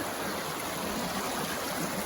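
A stream runs at a water crossing on a hiking trail, a steady, dense rushing wash heard close, even and unbroken throughout, with no voices.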